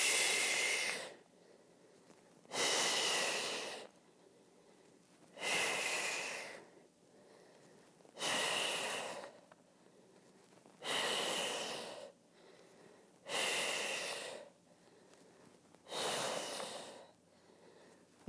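Slow, controlled breathing during prenatal round ligament exercises, seven evenly spaced audible breaths about every two and a half seconds, each a soft airy rush with quiet pauses between.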